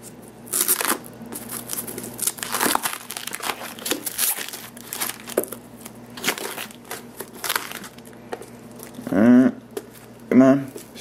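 Plastic wrapping and tape come off a Wii U console box with steady crinkling and crackling, broken by sharp tearing rips and a couple of squeaky pulls near the end. All of it is close and busy.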